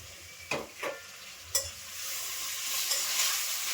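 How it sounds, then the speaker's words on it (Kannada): Tomatoes hit an oiled pan for chatpat avalakki with turmeric already in, giving a few sharp clattering stirs followed by a steady, close frying sizzle. "ಇದು ಟೊಮೆಟೊ ಹಾಕತ್ತೀನಿ ರೀ."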